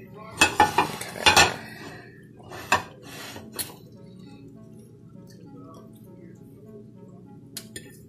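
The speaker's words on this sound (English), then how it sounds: "I'm just gonna go ahead and start dishing up my sausages" Metal utensils clink and scrape against a crock-pot and dishes while crock-pot sausages are dished up, a cluster of sharp clatters early on, then a few scattered knocks over a quiet background.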